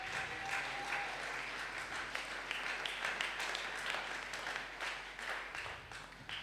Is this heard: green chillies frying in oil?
no